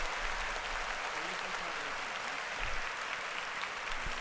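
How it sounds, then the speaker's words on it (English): Podcast studio applause, dense and steady throughout, a broad hiss of many hands at moderate level with a faint voice underneath. "no more applause"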